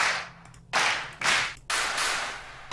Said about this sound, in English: some stadium claps.